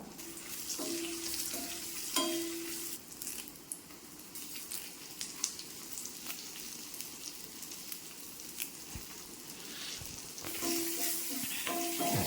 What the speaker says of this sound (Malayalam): ഇനി നമുക്ക് വറ്റൽമുളക് ഇട്ട് കൊടുക്കാം.